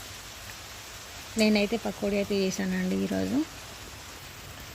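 Steady rain hisses in the background throughout while a voice speaks over it in the middle.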